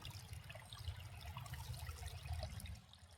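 Water flows in a small stream beside a tree along the Appalachian Trail in North Carolina, a steady close trickle and gurgle with broad hiss and low rumble, alone without talk.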